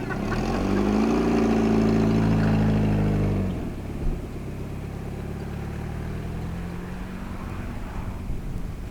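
An old Ford Fiesta, back on the road after 17 years, idles and then pulls away on a racetrack, its engine droning loudly with a steady low hum that drops to a rougher, quieter running note midway.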